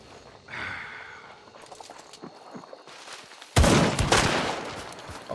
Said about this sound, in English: I realised it was a shotgun blast